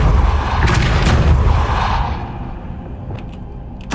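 Depulso spell blast in Hogwarts Legacy: a loud, booming low-heavy burst with crackle that rumbles for about two seconds and then decays into a fainter tail with a few small clicks.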